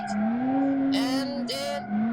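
A car in BeamNG drive brakes hard, its steady engine drone joined by two short bursts of harsh tire squeal, close and loud.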